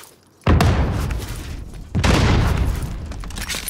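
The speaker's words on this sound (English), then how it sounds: "Just throw your tech grenade!" A tech grenade going off in a first-person shooter: two heavy, close booms about a second and a half apart, each leaving a dense rumbling tail.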